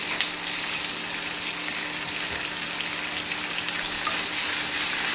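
Onions fry in a pan for a pakoda curry gravy, giving a close, steady, dense sizzle that runs unbroken with no voices.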